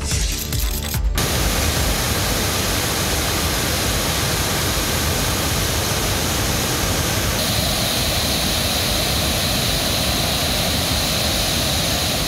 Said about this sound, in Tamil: திருப்பரப்பு அருவியில் வெள்ளப்பெருக்கு நீடிக்கிறது